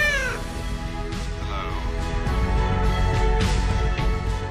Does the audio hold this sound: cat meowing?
yes